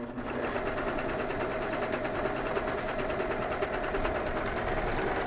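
A serger overlock machine runs steadily while sewing a flatlock stitch, producing a fast, continuous mechanical whir and rapid needle chatter at close range, unbroken throughout.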